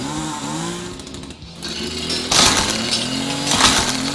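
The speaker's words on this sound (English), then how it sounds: "see what happens if you chainsaw a tree" A chainsaw cuts into a tree in a video game, its engine droning loud and steady with shifting pitch, then bursts of bright crackling and splintering noise as the wood breaks apart, no voices.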